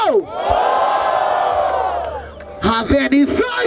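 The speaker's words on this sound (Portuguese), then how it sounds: "Barulho pro JP e pro Apollo!" A live crowd at a Batalha da Aldeia rap battle roars and cheers for the two-man duo in a sustained, loud wave, then erupts into scattered shouts and whoops.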